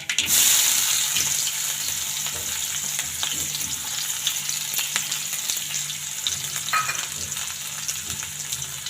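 Cumin seeds and finely chopped onion fry in a hot pan with a steady, bright sizzle, loudest at the start and settling into a continuous crackle with scattered pops for several seconds, heard alone without any talking.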